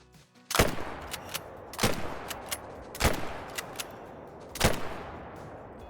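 Four loud 257 Magnum rifle shots ring out at roughly one-second intervals in the Call of the Wild hunting game, fired at wild boar, each sharp crack followed by a short rolling echo, with no talking.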